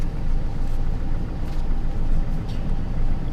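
A 2000 GMC Sierra truck engine idles cold with an oil pressure fault, a steady low rumble that stays close and constant, with a faint hiss above and no voices.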